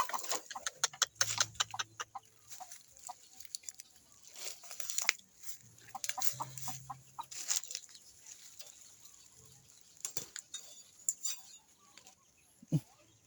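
Chickens cluck in short scattered bursts amid crunchy pecking and rustling sounds in a bamboo grove, fairly close, with a few louder clicks and quiet gaps between.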